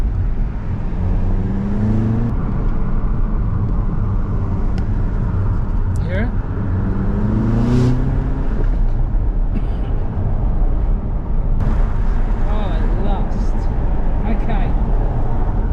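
An Audi TT engine revs in short rising and falling bursts, its intake noise audible under someone talking, with steady road and cabin rumble throughout.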